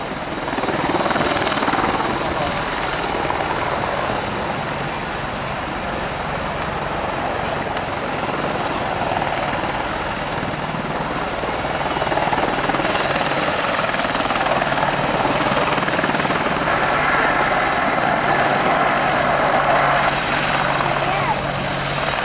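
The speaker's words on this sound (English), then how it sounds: "it's the first time that the Mark II Apache has given a public display in a flying programme in Britain" A Boeing AH-64E Apache Mark II helicopter flying a display at the Duxford summer air show, its rotor thrum and turbine roar loud and sustained, swelling and easing slightly as it manoeuvres.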